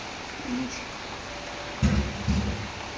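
Steady rain hisses softly during Cyclone Remal, broken by a few low, blustery gusts of wind in the second half; the whole scene stays faint and distant, with no talking.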